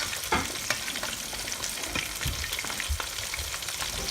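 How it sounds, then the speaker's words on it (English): Honey butter chicken wings frying in oil in a pot give a steady, close crackling sizzle with bursts of popping and stirring noises, and nobody speaks. "We need time to fry."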